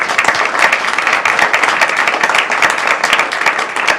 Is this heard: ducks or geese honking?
no